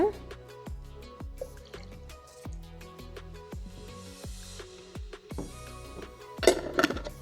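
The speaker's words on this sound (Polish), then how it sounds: "I doleję jeszcze troszkę wody." Water is poured into a glass jar of homemade biodegradable shampoo, giving soft drips and small splashes with faint glassy ringing, fairly quiet and close.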